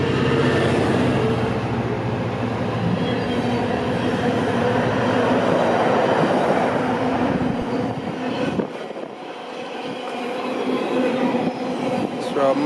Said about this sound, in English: now we have 66589, a Freightliner service.